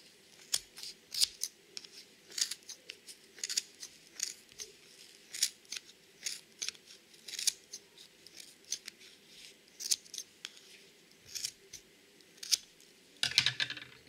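Scissors snip through Rainbow Loom rubber bands while finishing a loom-knitted hat, a series of small sharp clicks in an irregular rhythm, close and fairly quiet, with no talk.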